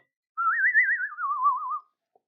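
A person whistles a short warbling bird-like call, one clear trilling phrase rising then falling, close and alone in silence, imitating a bird.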